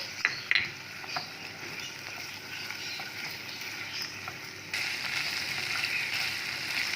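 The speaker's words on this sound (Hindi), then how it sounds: "इसमें चिकन फ्राई करेंगे।" Chicken pieces frying in ghee with ginger-garlic paste give a steady, close sizzle that grows louder partway through, with occasional clinks of a stirring spoon and no talking.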